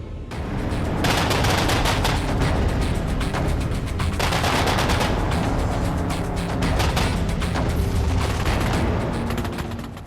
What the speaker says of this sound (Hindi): स्वचालित बेल्ट फीड के साथ 2 35 mm ऑर्लिकॉन KDA तोपों से लैस है।